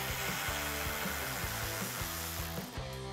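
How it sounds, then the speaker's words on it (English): A 10 mm bolt is backed out with a socket wrench on a 2009-2014 Ford F150 headlight mounting: quick, rhythmic ratcheting clicks repeat close up and fairly quiet, with no talk. "Just take your 10 mil socket once again and pull that out."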